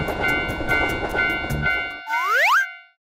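A cartoon train in a children's railway-crossing animation comes closer with rhythmic clacking over the rails and steady tonal chimes, then ends in a loud rising whistle-like sweep that quickly fades out.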